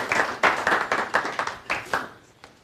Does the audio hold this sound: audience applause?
yes